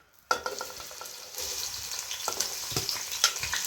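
Onions hit hot oil in a pot for a Durban-style mutton curry, erupting into a loud, steady sizzle that keeps crackling and spitting close by with no one talking.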